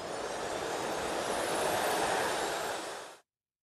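A cartoon jet aircraft takes off and flies, a loud broadband roaring whoosh that swells steadily and then cuts off abruptly after about three seconds, with no voices.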